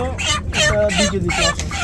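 A dense crowd of broiler chickens on a poultry farm, loud overlapping clucks and squawks close by in rapid bursts, filling the space with barely any pause.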